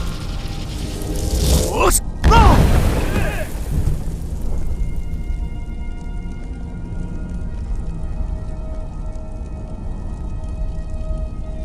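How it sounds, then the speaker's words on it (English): A Skyrim Unrelenting Force dragon shout blasts out as a sharp, loud burst with a booming roar, then decays into a long, low ambient rumble with faint tones lingering behind it. "Use your unrelenting force shout to strike the targets as they appear"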